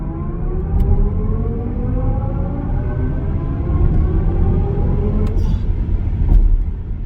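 A 2026 BMW iX 60 electric SUV accelerates in sport mode, its motor whine climbing steadily in pitch over a low road rumble from start to finish, with no talking.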